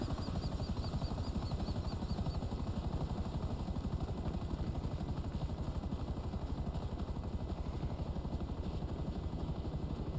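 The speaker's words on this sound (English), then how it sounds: "That was a Soviet helicopter. Yes, it's the I think it's called the Mi-24 Hind." Mi-24 Hind Soviet attack helicopter in GTA Online, its rotor thudding in a fast, steady, loud chop that runs throughout with a continuous engine whine above.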